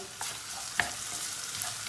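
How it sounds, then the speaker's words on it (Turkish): Softening potatoes get stirred in a covered pan, giving a soft, steady sizzle with a few light scraping clicks of the utensil, close and fairly quiet, no talking. "5 dakika sonra şöyle bir karıştırıyoruz."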